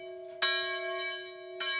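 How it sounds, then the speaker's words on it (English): Camp Nathaniel's morning wake-up bell rings in two clear metallic strikes about a second apart, each with a long sustained humming tone that rings on between hits, fairly faint and heard alone. "This is the Camp Nathaniel bell that's rung each morning to wake the campers up, get them going."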